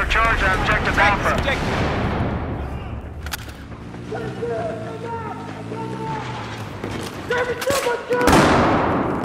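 Gunfire and explosion bursts in the Battlefield 4 video game, loud near blasts at the start and again near the end, with a busy battle soundscape and in-game voices between them.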